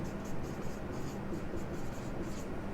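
Chalk or marker steadily scratching across a classroom board during a maths lesson, a continuous close scraping texture with faint voice hints underneath.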